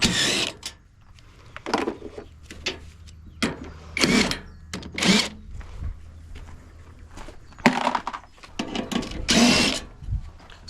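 Screws come out of a washing machine being scrapped, with repeated short whirring bursts from a power screwdriver separated by quiet gaps and small clicks and clatters close by.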